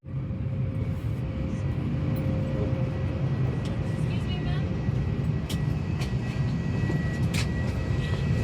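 Heard from inside the cabin of a Uganda Airlines airliner as it lands, a steady loud broadband roar of engines and airflow fills the whole stretch, with faint chatter in the background.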